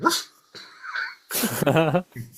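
A voice imitates a dog with a few short yips and a whiny bark-like sound, sputtery and close, in separate bursts.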